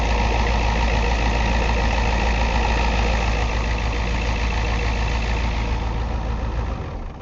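A 1990 Ford F250 diesel truck engine idles steadily after a restart, a loud close rumble with a constant low drone that drops away near the end.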